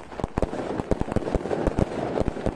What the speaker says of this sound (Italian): dove gli amici dei detenuti fanno esplodere i fuochi d'artificio.